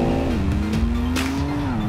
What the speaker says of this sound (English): it's so easy just to balance the car on the throttle, bring the back end around, and sort it all out.